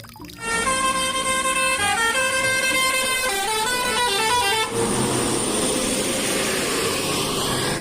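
A toy telolet bus horn plays a loud, close, stepping melodic honk for several seconds, then blares into a harsher steady tone, with no voices.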